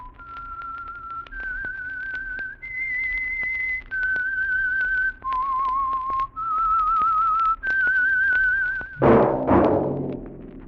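A single person whistles the slow theme of the radio mystery program The Whistler, sustained clear notes each held about a second, ending with a brief burst of brassy music.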